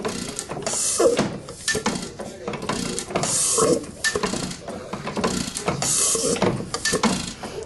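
A running Waterloo engine with rhythmic bursts of hissing from a leak at the piston, pulsing about every second and a half alongside clanking, ratcheting mechanical noise, close and steady.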